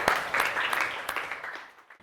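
Students in a classroom give a short round of applause during a lesson, a brief scattering of claps that thins out and fades within two seconds.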